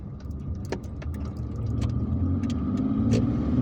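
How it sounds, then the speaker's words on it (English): A car's engine rumbles steadily from inside the vehicle while it moves to overtake on an Algiers expressway, a low continuous drone with road noise that grows slightly louder toward the end. "I'll have to overtake this car."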